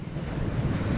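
Sea waves and wind along a coast make a continuous loud rushing wash with heavy wind buffeting, close and steady with no voices.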